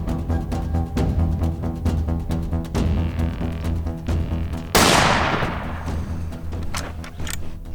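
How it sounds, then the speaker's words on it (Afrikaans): A hunting rifle fires once during a survival hunt, a sudden loud crack that decays over a couple of seconds, preceded by steady rhythmic tapping and a low hum. "hy maak doodseker van sy skoot"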